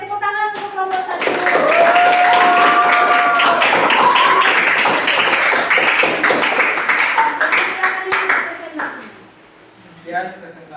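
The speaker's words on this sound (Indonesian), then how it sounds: "tepuk tangan untuk kelompok 1" A classroom audience claps for group 1 after its presentation, a loud, dense round of applause that swells and fades over several seconds, with voices heard at the start and near the end.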